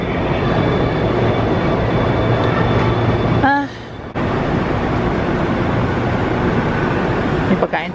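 Inside a moving train in South Korea, a constant loud rumble of wheels and carriage fills the space. A brief rising squeal and a short dip in the noise break it midway.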